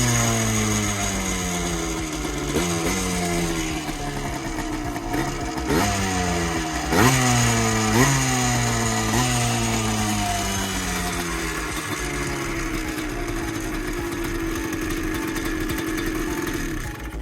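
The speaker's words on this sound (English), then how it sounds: "let's give it some revs" A Yamaha Blaster ATV engine is revved repeatedly, each blip rising sharply in pitch and falling back, then settling into a steady, loud, close idle with no talking.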